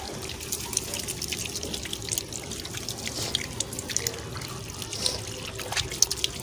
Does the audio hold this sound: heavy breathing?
no